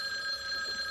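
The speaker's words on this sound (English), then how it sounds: "There's the phone." An electronic telephone rings with a steady, sustained tonal trill throughout a brief moment in a sitcom household scene, clear and unaccompanied by speech.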